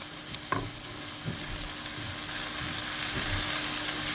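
Mild chili frying in a pan with onions, a steady bright sizzle that grows slightly louder over a few seconds, with a couple of soft stirring knocks near the start, close up and without speech.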